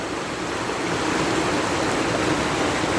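Creek water at the Massie's Creek waterfall rushes in a steady, unbroken roar that holds an even level throughout.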